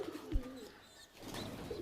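Pigeon cooing, soft and low, in a loft of Kalshira and Rajasthani pigeons; a few murmuring coos come and go over quiet background rustle, with no one talking.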